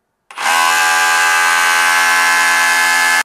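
Ryobi RSDS18X cordless SDS rotary hammer running in chiselling mode, a loud, steady high-pitched hammering buzz that starts abruptly and holds evenly for about three seconds.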